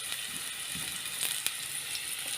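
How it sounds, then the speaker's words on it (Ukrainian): Chopped onion, about half a large bulb, frying in a pan with a steady low sizzle and crackle, faint and continuous with a few brighter pops, no voices over it. "Трішечки цибулька зараз обсмажиться"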